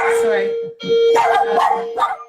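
Small dog barking and yipping indoors at a delivery arrival, close and loud in several quick bursts, with a doorbell-like tone running underneath.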